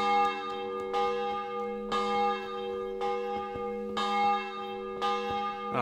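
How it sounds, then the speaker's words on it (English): Church bells ring in a medieval town in the game Kingdom Come: Deliverance, with repeated heavy strikes about once a second and long resonant hums, moderately distant and unaccompanied by talk. "Somebody's ringing the bells."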